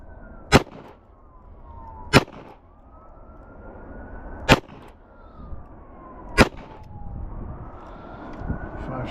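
Four sharp, loud gunshots ring out from a Ruger LCRx revolver, spaced unevenly over several seconds, while police sirens wail and rise in the background.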